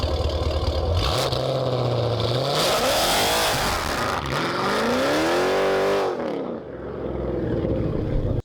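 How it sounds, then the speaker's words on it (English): A Dodge Challenger ScatPack on stock tires revs hard on launch control, its V8 engine rising and falling in pitch through several loud surges, then cutting off abruptly. "let me throw up a video of launch control in this car on the stock tires"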